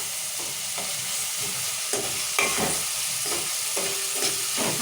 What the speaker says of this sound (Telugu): అన్నీ ఇట్లా కలుపుకున్నాం.